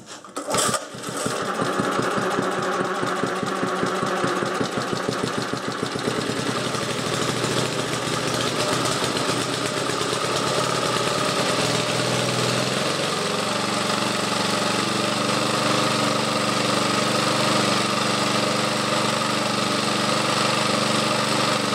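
A Briggs and Stratton engine on a Webb cylinder mower sputters to life after a start, then settles into a steady, close, continuous running drone.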